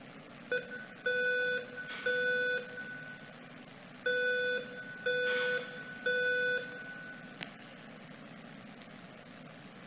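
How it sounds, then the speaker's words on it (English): A building alarm signal sounds in repeated bursts of loud electronic beeping, pairs of tonal pulses separated by short pauses, played to a listening audience in an otherwise quiet room. "I'll show you one of the 2 alarms"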